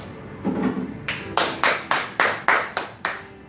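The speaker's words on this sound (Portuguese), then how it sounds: "Aplauda ao Senhor" A church congregation claps in praise, several sharp, evenly spaced group claps in a steady rhythm following some softer sound at the start.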